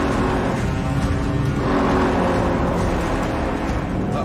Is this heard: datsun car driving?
yes